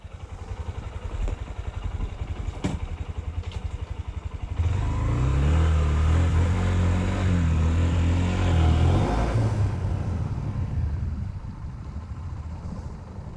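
A 2021 Honda CB125F city commuter motorcycle idles with a steady putter, then its small engine rises into a louder, close acceleration drone for several seconds before easing back.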